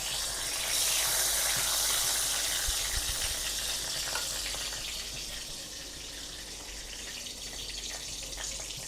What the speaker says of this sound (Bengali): এবার এই তেলেতে আমি দিয়ে দেবো গোটা গরম মশলা, এলাচ, দারচিনি আর একটা লবঙ্গ, আর এরকম একটা তেজপাতা দিয়ে দেবো।